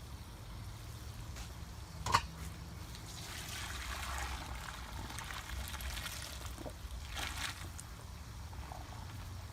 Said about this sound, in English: Looks like our pasta is ready, so now we can strain it.